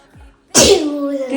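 A single loud, close sneeze bursts out sharply and trails off, with a person speaking faintly just before it.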